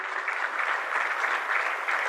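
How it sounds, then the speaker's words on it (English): Audience applause for the college management at a pharmacy college conference session, a dense, even wash of clapping from a large crowd that holds steady throughout. "I request everyone to kindly give applause to our management"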